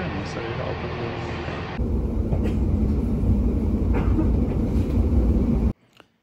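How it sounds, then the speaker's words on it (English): Riding inside a train heading to Reading: a continuous low rumble of wheels on rails, which gets louder and fuller partway through before stopping abruptly near the end. "I'm on a train that goes directly to Reading now"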